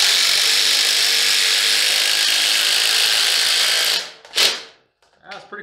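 Ryobi and DeWalt drivers sink 6-inch screws into wood with a loud, continuous high whirring for about four seconds, then cut out abruptly, followed by a couple of brief short bursts and clicks.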